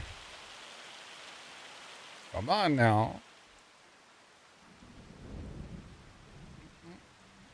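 Rain and thunder in the farming game Farming Simulator 25: a soft, steady rain hiss runs throughout, and a low thunder rumble swells later on, while someone speaks a brief phrase over it.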